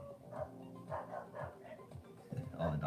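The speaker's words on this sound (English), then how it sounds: "all the dogs are going crazy right now." Several dogs bark excitedly in rapid, overlapping yaps and woofs, close and fairly loud, with people talking underneath.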